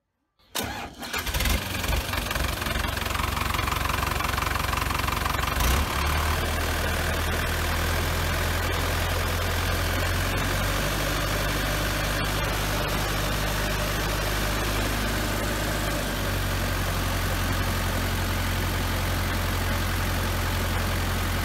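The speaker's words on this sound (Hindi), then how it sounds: "एस कंपनी का A65 CEV BS3 diesel engine है ये, inline four cylinder, 61 horse power है और लगभग 300 Nm टॉर्क है।" A 2019 Ace 16XW hydraulic mobile crane's Ace A65 CEV BS3 inline four-cylinder diesel engine, rated at 61 horsepower, cranks briefly, catches and then settles into a loud, steady close-up idle with a low rumble, with no voices.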